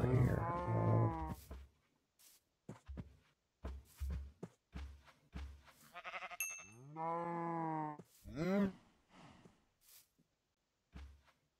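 Cows mooing in the Minecraft video game, several drawn-out low calls spread across the stretch, with short percussive game sounds and footsteps between them and only faint talk.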